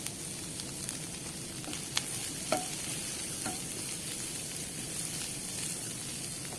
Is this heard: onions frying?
yes